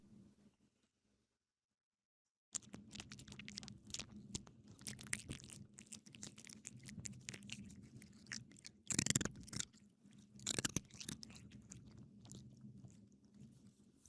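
A pet chews crunchy food up close, with loud irregular crunches and biting sounds that start after a brief quiet moment. Two sharper bursts of crunching come through midway.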